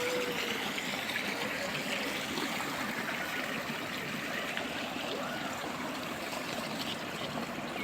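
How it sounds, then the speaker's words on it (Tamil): Water flows and rushes continuously nearby, a steady broad splashing with no pauses. "தண்ணி ஓடிட்டுருக்கு"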